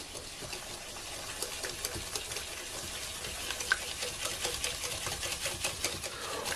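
A sugar mixture is stirred by hand in a bowl, giving a soft continuous scraping and swishing at low level, with fine gritty ticks throughout and no voices.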